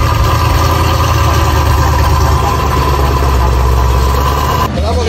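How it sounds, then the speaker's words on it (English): A car engine with a choppy idle rumbles loudly and steadily up close, with a rough low throb and vibration throughout, cutting out abruptly near the end. "Edit the chopping noise for his car."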